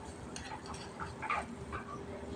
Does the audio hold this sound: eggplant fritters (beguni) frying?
yes